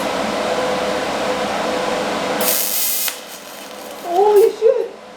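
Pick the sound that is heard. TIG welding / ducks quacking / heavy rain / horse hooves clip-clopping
TIG welding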